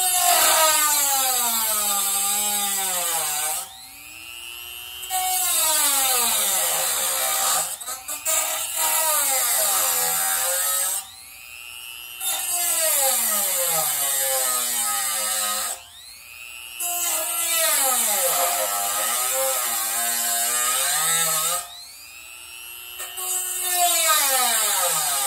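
A fiber cutoff wheel grinding through a Byzance China cymbal, loud and close, in four or five sustained shrieking cuts with swooping pitch, separated by brief pauses as the wheel lifts off the metal.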